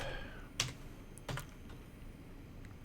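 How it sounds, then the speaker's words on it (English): Keys clatter on a computer keyboard in short bursts, two louder clusters of clicks standing out over a quiet, steady background with no talk. "my typing's getting really good"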